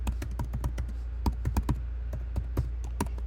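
Rapid tapping on a computer keyboard while typing a short comment, a close run of crisp irregular key clicks over a steady low hum, with no speech.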